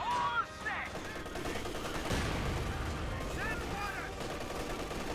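Battle in the strategy game Company of Heroes 2, with mortar rounds thudding and an MG34 machine gun rattling in steady bursts over dense combat noise, while a caster talks over it.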